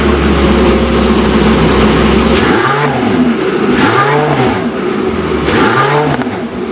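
A warmed-up Porsche 918 Spider fires its engine after a steady rumble, then blips the throttle in three sharp, loud revs spaced about a second apart, each climbing and dropping back, with no voices.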